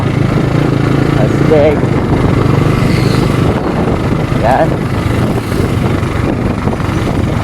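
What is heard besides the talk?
big motorcycle engine running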